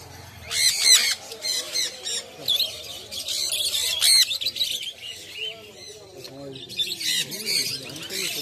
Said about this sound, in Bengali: পাখিগুলো যে ডাকছে কত সুন্দর লাগছে।